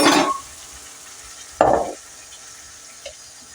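A ground masala mixture for chicken gravy hits hot oil in two short, sharp bursts of sizzling hiss about a second and a half apart, with quiet pauses between them.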